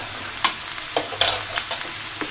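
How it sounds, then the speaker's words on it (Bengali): Spices being stirred into snake gourd frying in a pan, with a low steady sizzle broken by several sharp scraping clacks of the spoon against the pan, close up and without talk. "দিয়ে সুন্দর করে মশলাগুলো মিশিয়ে নিব, দিয়ে নাড়াচাড়া করে দিব।"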